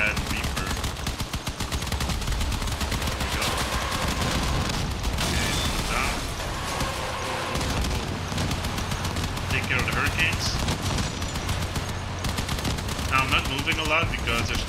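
Spectre-2 machine guns fire in Crossout vehicle combat, sustained rapid bursts mixed with booms and impacts, loud and dense, with someone talking over the gunfire.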